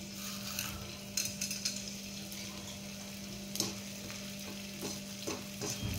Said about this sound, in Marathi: थोडं थोडं करून डिंक टाकून घ्यायचे आणि हे तळून घ्यायचे